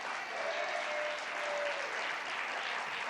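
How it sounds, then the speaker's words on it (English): Audience applause at a public housing funding announcement, a dense steady wash of clapping from a crowd, held at an even level, somewhat distant and soft. "give yourself a round of applause."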